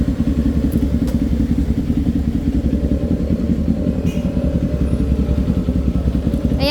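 Kawasaki Z400 motorcycle engine running steadily nearby, a loud, even, throbbing rumble with a fast regular pulse and no voices.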